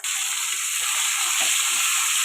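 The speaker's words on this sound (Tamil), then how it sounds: "இப்போ தக்காளி போட்டுக்கலாம்." Tomatoes go into hot oil with garlic and small onions for a vendakkai pulikulambu. The result is a loud, steady hissing sizzle that holds evenly throughout.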